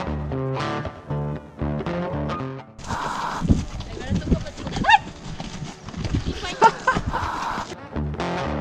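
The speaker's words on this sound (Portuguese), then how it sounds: "dar um passeio a cavalo" On a horseback ride in Gouveia, Serra da Estrela, hooves clip-clop in an uneven rhythm. Music plays at the start and end, and voices are heard over the hoofbeats.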